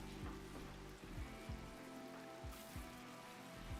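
Faint, steady rain patters continuously in a video game, a soft even hiss with no voices over it.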